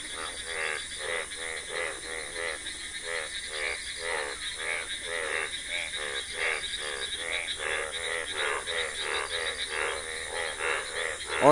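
A chorus of frogs calls after a sudden rain, a steady train of rapid pulsing croaks repeating throughout at moderate volume, recorded from a roadside with no one speaking.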